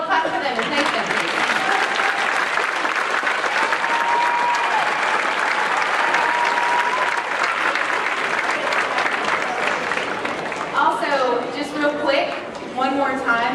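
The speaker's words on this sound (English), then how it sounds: "Well, clap for them and thank them" An audience at a Kentucky All District school concert breaks into sustained, dense applause for school administrators, a steady roar of many hands that lasts throughout and thins slightly near the end.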